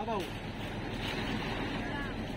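Rough sea during Typhoon Carina: choppy waves slosh and wash around a boat close by, with wind buffeting the microphone, in a brief burst.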